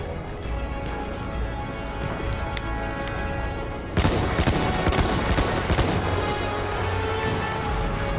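Battlefield 1 gunfire erupts in a rapid cluster of loud cracks and bursts after a stretch of droning battle ambience with a distant airship, then continues in scattered shots.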